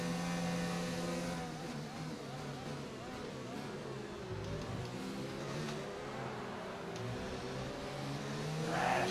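Formula 1 car engine in the F1 2019 racing game whines and revs steadily, rising and falling through gear changes over a long stretch, with someone talking over it.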